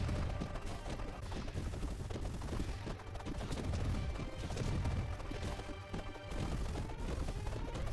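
Bombs going off against the wizard boss in Castle Crashers Remastered: a dense, steady barrage of game explosions and impacts with busy battle effects layered over background music, loud and unbroken throughout.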